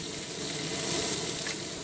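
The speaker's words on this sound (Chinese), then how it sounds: "再继续煎3到5分钟" Cod fillet frying skin-side down in a covered pan with oil, a steady close hiss of sizzling that holds level throughout with no talking.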